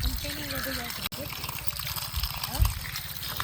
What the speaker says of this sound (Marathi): ह्याच पद्धतीने आपल्याला सगळी कोथिंबीर धुवून घ्यायची